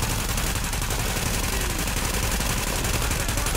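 Dense, continuous gunfire roars without pause in The Division video game, a loud wall of rapid shots filling the whole moment with no voices over it.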